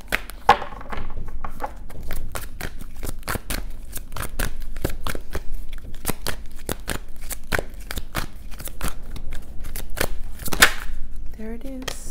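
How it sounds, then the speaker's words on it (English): Tarot cards snap and flick in a rapid, uneven run of sharp close riffles and taps, with a brief voice near the end. "I have a lot of jumping cards"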